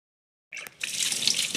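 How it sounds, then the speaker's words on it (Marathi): Fresh cluster beans being washed under running water at a home kitchen sink: after a short silence the water starts suddenly, a bright close splashing that keeps going with a brief knock. "घरात आणून गवार स्वच्छ धुवून घेतली"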